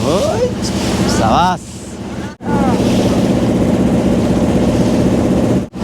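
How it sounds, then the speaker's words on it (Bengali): Steady loud rush of waves and wind close to the microphone by boats on the Maithon Dam reservoir, India, with a voice speaking over it and brief dropouts. "ঢেউগুলো দেখুন শুধু"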